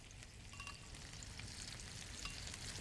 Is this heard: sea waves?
no